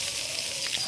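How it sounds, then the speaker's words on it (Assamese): Pointed gourd frying in hot oil in a wok, a close, even sizzle with a few small crackles over its brief length, no voices. "কেৰাহী গৰম হৈ গ'ল, তেলত মই এবাৰ পটলখিনি ভাজি ল'ম।"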